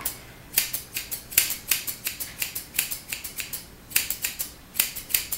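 Rapid, crisp snips of grooming scissors cutting a Yorkie's hair repeat in quick rhythmic runs, close up, with brief pauses between bursts and no talking.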